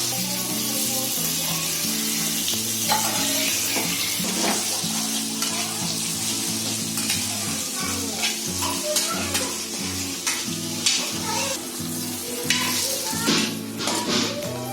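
Fish frying in a pan for a Konkani fish thali, a continuous oily sizzle with scraping and stirring sounds, close and fairly loud throughout.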